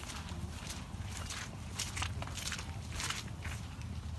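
Footsteps of a group walking home along a path past a kiwi orchard in New Zealand, a steady shuffle of steps over continuous outdoor background noise with no clear talk.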